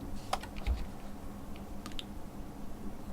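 A single computer keyboard key is pressed with a soft, close click, followed by a couple more light clicks over a quiet room background.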